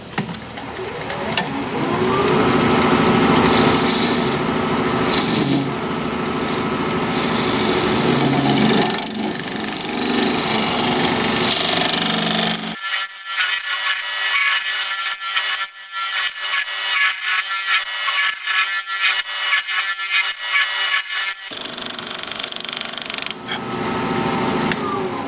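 A scrap piece of apple wood is scraped on a wood lathe, giving a continuous rough, rasping whir of tool against spinning wood that dips briefly and returns.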